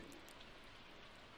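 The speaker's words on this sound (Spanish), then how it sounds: "¿escucho lluvia o qué?" Rain falls in the farming video game Stardew Valley, a faint, even patter of drops that holds steady through a brief moment with no voices.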